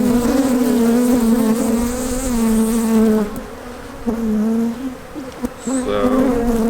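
Agitated honeybees swarm loudly inside an open beehive during a queen introduction, a dense steady buzzing hum that fills the scene, dipping briefly midway before surging again.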